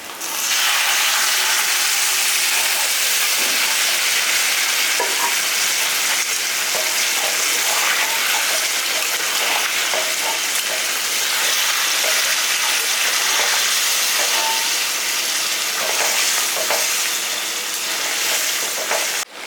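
Mutton curry in a pot after water is poured in, giving a steady loud sizzle and bubbling hiss with scattered scraping stirs throughout, no voices.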